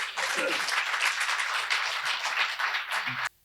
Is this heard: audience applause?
yes